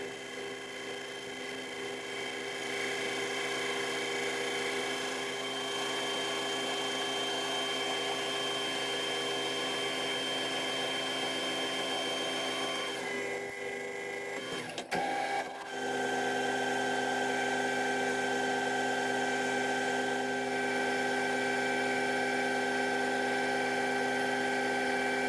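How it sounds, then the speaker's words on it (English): A lathe machines down a steel bar of 4140 for a homemade boring head, producing a steady continuous whine and hum with a brief interruption midway before resuming. "I'll start machining it down, which is a lot of material to come off"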